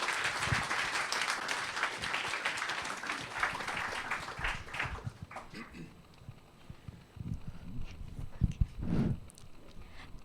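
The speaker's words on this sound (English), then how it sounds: "give a big round of applause as we invite Nick to take his seat" Audience applause at a business talk event as a guest takes his seat, clapping filling the first half and then thinning to scattered claps and room noise.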